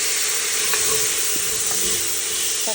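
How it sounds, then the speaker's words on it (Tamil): Chopped tomatoes sauté with ginger-garlic paste in a pan for a country chicken salna, giving a steady close sizzle with a few soft stirring scrapes. "தக்காளி கொஞ்சம் சாஃப்டாகிட்டு வதங்கி வைப்பேன்."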